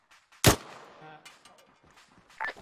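A single sharp gunshot from the military video game Arma 3 Antistasi rings out loud and close, trailing off into faint rumble, followed by scattered softer sounds and a brief later burst.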